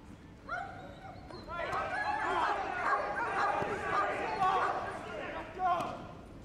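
Several police dogs bark and yelp in an excited, overlapping burst during a police dog display at Crufts 2015, with shouting voices mixed in throughout.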